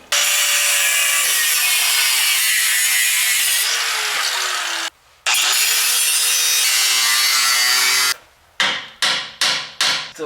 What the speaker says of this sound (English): Why do you want to hacksaw up there?